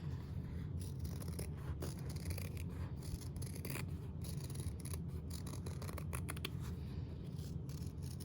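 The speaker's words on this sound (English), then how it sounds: "take your scissors and trim right around that outer edge" Quiet scissors snip and rasp through cotton fabric in a steady series of close cuts around an outer edge, over a soft background hiss.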